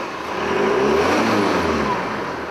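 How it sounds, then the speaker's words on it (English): A car engine revved a couple of times during an electronics test, a steady close mid-pitched whir and rising rev that swells and holds for a couple of seconds before easing slightly. "we'll just give the engine just a couple of rev ups."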